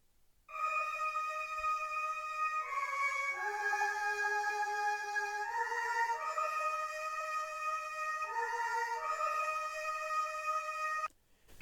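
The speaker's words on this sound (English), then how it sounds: "So on its own it sounds like there's someone screaming, but it's those two choirs pitched very high" Two choir samples pitched very high in FL Studio, forming sustained, shrill stacked tones that shift chords every few seconds like distant screaming voices, steady and loud for about eleven seconds before cutting off.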